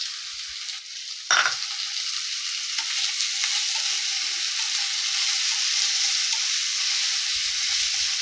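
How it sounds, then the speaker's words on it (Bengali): Green chilli, ginger and boiled peas fry in a pan with a steady broadband sizzle, a sharp burst as the ingredients hit the hot oil, then continuous crackling hiss alone throughout. "একটি কাঁচা লঙ্কা আর আদা দিয়ে দিলাম। একটু এটাও ফ্রাই করে নেবো।"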